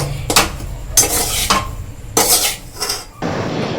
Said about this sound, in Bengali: আপনারা এই সসটা অ্যাড করবেন ভালো করে মিশিয়ে নেব